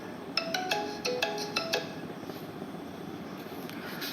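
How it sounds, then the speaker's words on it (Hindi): A phone's melodic ringtone plays a short run of bright, tinkling notes in a quick rhythm, moderately close, for about a second and a half before stopping, leaving a quiet room hum. "किसी का फोन आ गया है"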